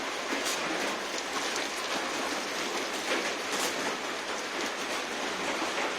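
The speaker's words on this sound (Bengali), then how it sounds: "সকালে থেকে এই পর্যন্ত বৃষ্টি।" Outdoor rain falls in a steady, even hiss, with faint spattering drops on surfaces and no pause for the whole stretch.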